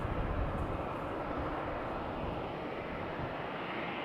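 A continuous broadband roar from general aviation aircraft at Raleigh-Durham International Airport, steady and moderately distant, with no voices over it.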